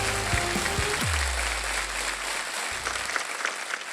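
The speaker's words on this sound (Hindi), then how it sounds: "जोरदार तालियां" Studio audience applause on a Hindi Wheel of Fortune game show, loud dense clapping sustained throughout, with a brief musical sting and low tone under the opening second.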